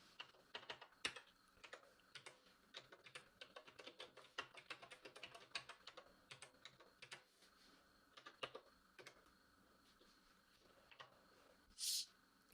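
Rapid irregular tapping of a computer keyboard, faint and close, keystrokes clattering in quick bursts with short pauses and a brief louder click near the end.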